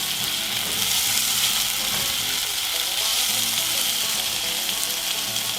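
Peppers sizzling in oil in a pan for a zucchini dish, a continuous close crackling hiss with small spits and bursts throughout, no talking over it.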